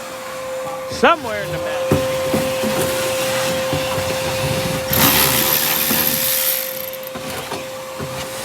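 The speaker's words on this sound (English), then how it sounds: "We might need to vacuum some of this too." A vacuum cleaner running while cleaning out a rusty 1959 Ford Galaxie makes a constant, loud tonal drone from start to finish, with people talking and scattered clunks and scrapes of work underneath.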